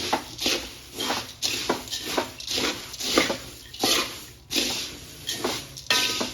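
Roasted poha and puffed rice chevdo with turmeric and curry leaves is stirred in a pan, giving soft, rhythmic scraping strokes about every half second, quiet and close, with no talking.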